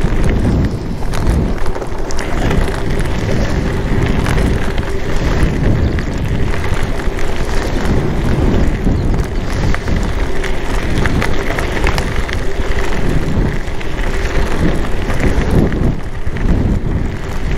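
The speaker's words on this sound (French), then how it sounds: "Il y a du vent aujourd'hui, oh là là." Strong gusty wind buffeting a microphone while cycling outdoors on a road, a loud continuous roar with rumbling low pulses lasting the whole stretch, no talking over it.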